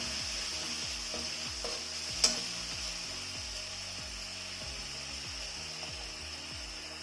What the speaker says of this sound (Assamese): ভালকৈ লৰাই লওঁ।